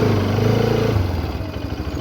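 A motorcycle engine runs close by with a steady low throb, then settles into a rougher, lumpier idle as it is brought to a stop.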